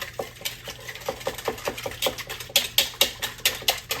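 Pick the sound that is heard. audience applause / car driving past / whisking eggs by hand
whisking eggs by hand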